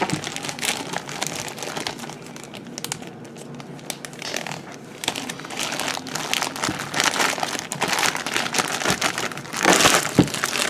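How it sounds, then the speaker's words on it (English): Food being pushed and mixed around inside a plastic freezer bag, a continuous close crinkling and crackling of plastic that swells louder near the end, with no talking. "I'm just going to mix this around a little bit in the bag, push it around"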